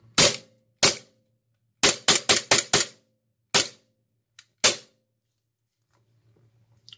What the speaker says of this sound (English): So although you can fire it as fast as you can pull the trigger